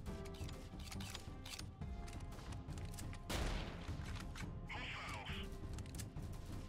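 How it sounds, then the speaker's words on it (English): A grenade goes off in the video game Freeman: Guerrilla Warfare, a sudden broad blast partway through amid ongoing gunfire and mechanical game noise, fairly faint overall. "A grenade."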